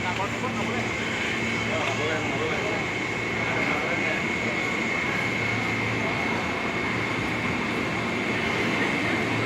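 A long-distance train bound for Sukabumi passes a station with a loud, continuous rumble and a steady high whine, heard up close under the ambient noise of the station.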